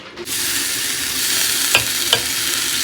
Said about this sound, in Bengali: এখানে গাজর নিয়ে নিয়েছি রেড বেল পেপার নিয়ে নিয়েছি আর এখানে নিয়েছি ব্রোকলি তো এগুলো এখন ভাজা করে নেব